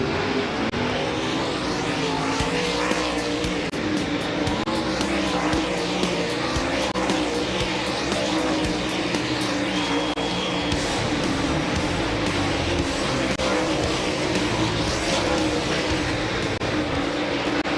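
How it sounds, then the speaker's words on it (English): World of Outlaws late model race cars run hot laps at Volusia Speedway, a dense, continuous roar of several engines revving and passing, loud and steady throughout with no clear speech. "green flag is out here at Volusia for the final hot lap session of the night for the World of Outlaws late models"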